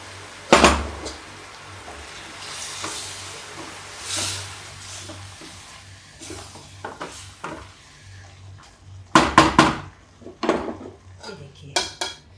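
Dal dhokli is stirred in a metal cooking pot, making clanking scrapes and sharp metallic knocks of a spoon against the pot, with a louder flurry of clatter near the end and some quiet rustling between.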